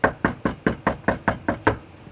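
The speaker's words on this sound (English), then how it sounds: "We knocked on the car owner's door" Nine steady raps on a house door, close and fairly loud, in an even rhythm about a quarter second apart, with no talking.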